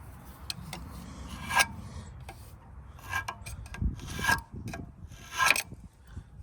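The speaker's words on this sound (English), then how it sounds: "So I'm gonna put a little mark on there with my knife." Knife scratching a mark onto a machine part during maintenance, close short scraping strokes in irregular bursts with a few sharp clicks and low rubbing in between, no speech.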